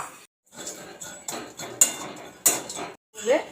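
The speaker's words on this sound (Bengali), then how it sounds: "বড়ি নিয়েছি, এগুলো এই শিলনোড়া দিয়ে গুঁড়ো করে দিলাম" Dried lentil dumplings (bori) are crushed with a flat grinding stone and pestle (shil-nora) in a kitchen, making several short, close grinding and knocking bursts with brief pauses between them.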